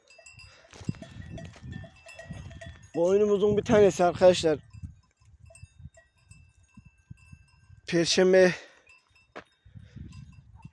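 Sheep bleating in a village pasture, two loud wavering bleats a few seconds apart, with someone talking quietly between and around them and faint rustling in the background.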